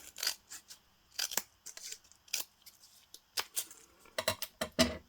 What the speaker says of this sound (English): what if I just cut a strip and then cut it in half